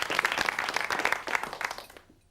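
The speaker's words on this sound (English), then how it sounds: "applause for a waistcoat, please." A studio audience gives a burst of brisk, even applause that holds steady for about two seconds and then fades quickly to quiet.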